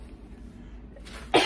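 A single short cough near the end, sudden and fairly loud after near silence, from someone about to show off items from a Temu haul.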